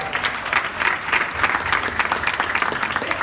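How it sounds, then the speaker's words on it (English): A crowd at a creators' meetup in Ghana breaks into applause, close and lively clapping that holds steady for a few seconds with no voices over it. "applause."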